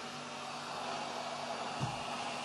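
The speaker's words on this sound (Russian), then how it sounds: "Как видите, фен начал дуть." A soldering station's hot air gun blows a steady, even stream of air, its quiet fan giving a soft continuous hiss and low hum throughout.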